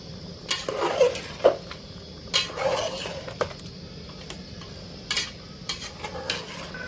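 A spoon stirs chicken in tomato gravy inside a cooking pot, with irregular scrapes and light metallic clinks against the pot sides over a low background hum. No one speaks.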